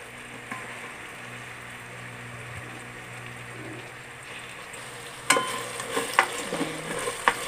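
Tomatoes for pork sinigang sizzle softly in a pan at a low, even hiss, with a few sharper clinks and scrapes of stirring toward the end.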